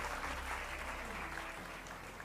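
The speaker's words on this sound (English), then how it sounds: "Everyone, big round of applause for sir as well." Audience applause after an award presentation at a university foundation day celebration, a steady wash of clapping throughout that fades slightly toward the end.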